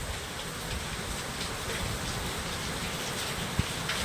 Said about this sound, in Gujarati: અત્યારે જોરદાર વરસાદ પડી રહ્યો છે આમ જો મોટા મોટા છાંટા પડે છે